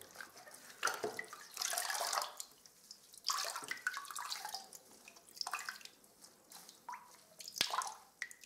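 Water being changed in a container while rinsing a new paint roller sleeve: close splashing, pouring and dripping in uneven bursts, with sloshes and trickles between quieter pauses.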